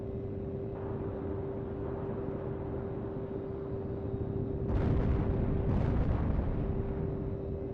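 Missile impacts on an enemy jet in the combat flight game H.A.W.X. 2, two sharp blasts a second apart rising out of steady engine roar and a constant tone.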